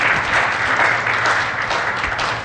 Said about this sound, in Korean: 잘 하라고 우리 박수 한번 쳐줬으면 좋겠습니다